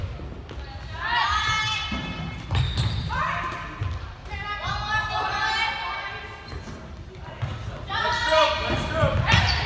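Basketballs thump repeatedly on an indoor court during a team shooting drill, irregular bounces under a coach calling out instructions.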